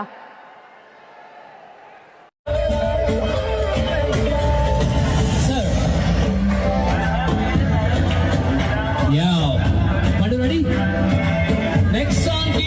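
Large crowd at the Bhogapuram airport inauguration event with Prime Minister Narendra Modi, bursting into loud, sustained applause and cheering that starts abruptly after a quieter moment and continues steadily throughout.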